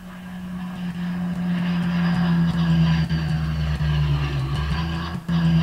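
A propeller airplane flying overhead, a continuous loud droning engine hum with a steady low tone that persists for several seconds, with occasional faint clicks.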